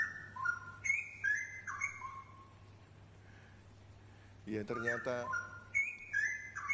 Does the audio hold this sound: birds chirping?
yes